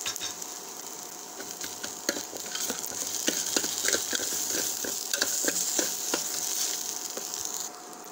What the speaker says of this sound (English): Now I am adding jeera, cumin seeds.